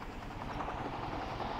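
Helicopter in the Rope Hero Vice Town video game, a steady low rotor drone with a rhythmic chopping pulse, fairly loud and continuous, no talk.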